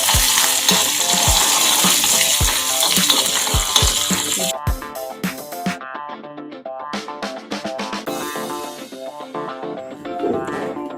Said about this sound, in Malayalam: അപ്പോൾ നമുക്ക് കുറച്ച് കറിവേപ്പില, ഉണക്കമുളക് ആഡ് ചെയ്യാം.